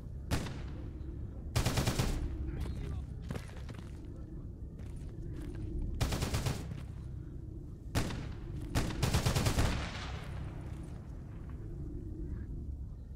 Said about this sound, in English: And gunshots from right over this hill